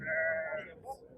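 A sheep gives one loud, close bleat at a livestock market in Zomin district, Jizzakh, with a brief softer sound after it.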